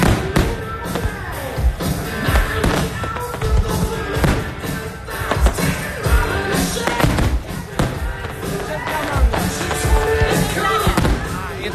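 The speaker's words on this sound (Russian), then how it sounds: "Чемпионат мира по фейерверкам команды Италии." Fireworks display by an Italian team at a world fireworks championship, with continuous thumps and bangs of shells bursting at a steady, busy rhythm, fairly loud with crowd noise mixed underneath.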